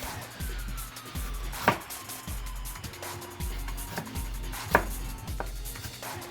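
A knife chops fish on a cutting board in a home kitchen, with steady rhythmic thuds roughly every half second and two sharper, louder knocks, close up with no talking.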